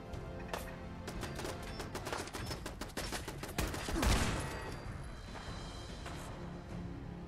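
Sustained gunfire comes from a tower in Fallout 4, heard as rapid, repeated shots in dense bursts with one heavier boom near the middle before it tails off. The shots stay moderately distant and no one speaks.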